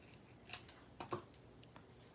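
Scissors snipping cardstock for a handmade Halloween card, giving three or four faint, short snips spaced irregularly in a quiet room.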